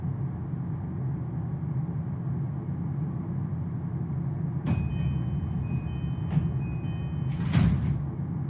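Train doors close at Maihama station on a JR Keiyo Line rapid service in the BVE5 simulator, with a few distinct thuds and clunks over a steady, rumbling cabin drone.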